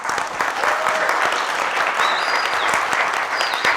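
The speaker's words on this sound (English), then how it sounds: "A big round of applause to our helpers." Audience applause fills the room, a dense steady clatter of many hands clapping at close range, continuous and even for a few seconds.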